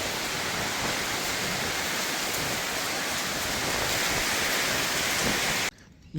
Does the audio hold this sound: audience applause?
no